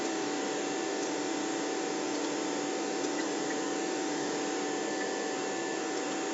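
A vacuum cleaner runs steadily in a house, a constant droning whine with no breaks, moderately distant and even in level throughout.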